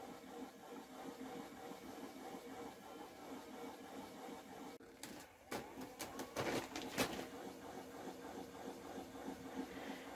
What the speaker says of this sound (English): once your wheel is spinning, you let that catch onto the single